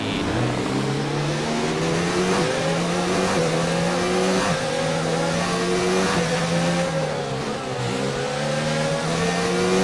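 A Formula 1 car engine in the F1 2019 video game revs hard at a race start, a loud continuous high-pitched scream climbing through the gears with slight dips at the shifts. Other cars roar close by throughout.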